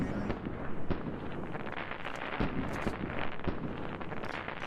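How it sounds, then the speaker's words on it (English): Fireworks bursting in the survival game Ark Survival Evolved, a dense run of crackling pops and booms with sharper cracks scattered throughout, loud and continuous over a steady rushing background. "Probably shouldn't have done the fireworks."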